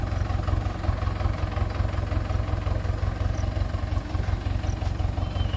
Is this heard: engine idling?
yes